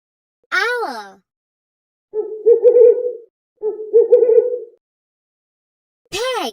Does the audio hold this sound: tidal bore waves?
no